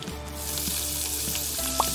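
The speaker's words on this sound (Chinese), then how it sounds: "添加蒜头，中火煎一会儿，" Garlic fries in olive oil in a pan over medium heat, giving a steady soft sizzle throughout with faint clinks.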